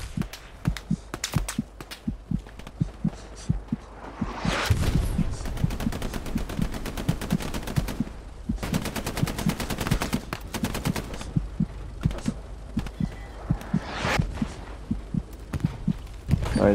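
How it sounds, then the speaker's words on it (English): Rapid bursts of gunfire crack around the player in the WWII shooter game Hell Let Loose, dense volleys and single shots repeating in quick rhythm, loud and close, with muffled thumps between bursts. "Oh shit, they're shooting at me."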